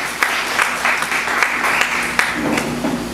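A church congregation claps in praise, producing loud, close, continuous applause with a few sharper individual claps standing out.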